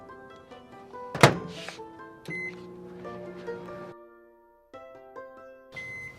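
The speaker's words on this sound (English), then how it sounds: "2 minutes in the microwave." A microwave oven is used to cook a mug cake: a loud door thunk, then a steady hum with beeps and some clatter, a brief quiet gap, and the hum resumes.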